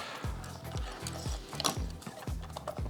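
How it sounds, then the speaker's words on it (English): Canon AE-1 film camera being wound and fired: a series of sharp mechanical ratcheting clicks from the film advance lever, repeated several times in a steady rhythm, with crisp shutter snaps, close and quiet with no talk. "Film lever advances here, and there's your shutter release."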